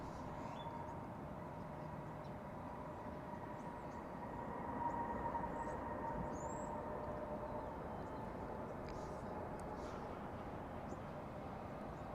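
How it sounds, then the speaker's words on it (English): An Airbus A320 airliner touching down at DFW airport, heard as a faint, distant, steady jet roar that swells slightly midway and then holds. "An Airbus A320 touching down just now."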